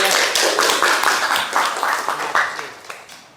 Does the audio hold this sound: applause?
yes